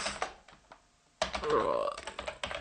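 A computer keyboard clatters as a command is typed, with a few light clicks, a pause, then a denser run of keystrokes close by while a voice speaks over them.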